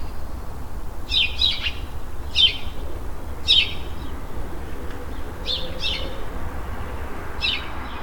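House sparrow chirping in short, separate bursts, five or six sharp chirps spaced about a second apart over a steady low background hiss, with no voices.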